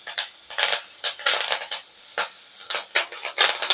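Curry leaves and green chilies hit hot oil in a pan, giving a close crackling sizzle in uneven bursts, with a spoon scraping and stirring against the metal now and then.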